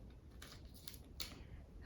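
A strip of thick adhesive tape is cut straight off a roll in a workshop, giving a few short, crisp snips over a low background hum.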